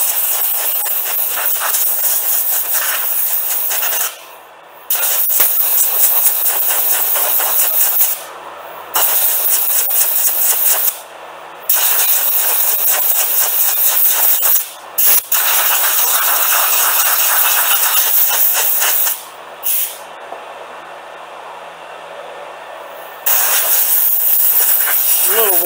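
A hot metal part from a 3 inch semi trash pump hisses loudly as it is cooled, in long steady bursts broken by short silent gaps, close and dominant throughout.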